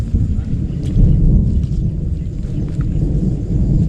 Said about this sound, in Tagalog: Kumukulog pa.